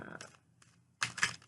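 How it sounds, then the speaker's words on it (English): Goddess Knowledge tarot cards are shuffled hand over hand close up, giving two quick papery bursts of riffling and slapping separated by a short pause. "Shuffles nicely hand over hand, sort of."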